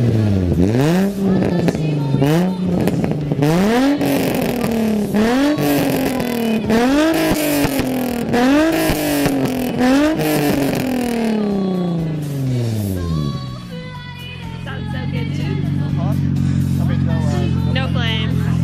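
A Nissan 350Z fitted with test pipes revs repeatedly in a loud, close series of rising and falling engine sweeps, then settles into a rough idle; people talk over parts of it.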